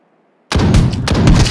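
Gunfire at a training dummy in the mobile shooter Project RushB, a loud burst of close, rapid shots that starts abruptly after a brief silence and continues to the end.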